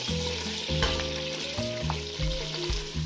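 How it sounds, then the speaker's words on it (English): Onions sauté in melted butter and olive oil in a large saucepan over medium to high heat, a close, steady sizzle and crackle with a few bursts of stirring and no talk. "Saute on medium to high heat"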